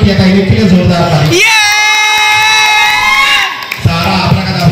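Children cheer and shout loudly at a birthday party magic show in Mumbai, a close, boisterous crowd noise with a long sustained high tone in the middle before the excited shouting returns.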